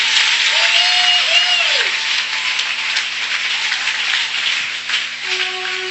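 Church congregation at a Holy Spirit meeting breaking into sustained applause, a dense, steady wash of clapping that stays loud throughout with no pauses.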